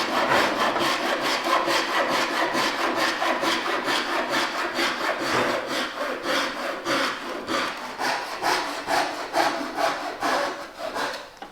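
A Japanese pull saw cuts through a laminate floor board with a loud, close, rapid series of rasping strokes that continue steadily and slow a little toward the end.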